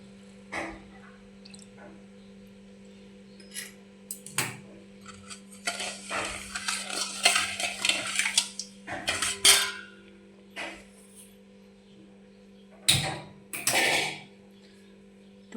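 Spoon scraping and clinking in a pot while sugar, milk and ghee are mixed for shankar poli, in bursts of metallic clatter over a steady low hum, with quiet gaps between the stirring strokes.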